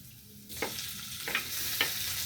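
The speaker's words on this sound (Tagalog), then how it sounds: "gisa-gisa natin" Tomato sizzles and frying in a hot pan as it is sautéed for adobong eggplant with pork head. The steady hiss is broken by a few soft stirring scrapes, with no talking.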